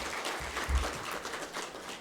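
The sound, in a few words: audience applause for a professor at a conference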